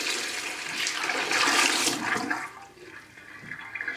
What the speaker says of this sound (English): I flushed that toilet without any kind of a problem.